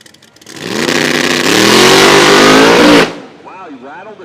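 A nitro drag racing car launches hard down the strip at a Toronto drag racing event, its engine a loud sustained roar for about two and a half seconds while the tires shake, then cutting off abruptly, leaving distant crowd and announcer talk.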